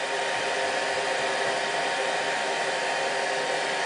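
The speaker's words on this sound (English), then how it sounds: "Just put a piece of heat shrink on, melt it till it gets snug around the" Heat gun blowing steadily on heat shrink tubing around cable conductor insulation, a continuous loud airy rush with no pauses and no talking.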